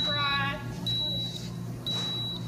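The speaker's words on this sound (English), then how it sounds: "I know that beeping is really annoying" A smoke alarm in a kitchen during a kids' healthy cooking class beeps in short high-pitched bursts, three electronic tones spaced about a second apart, fairly loud over a background hum.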